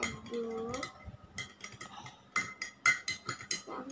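A spoon stirring tea in a cup, giving light clinks and taps of metal against the cup's sides, with some indistinct sounds early on.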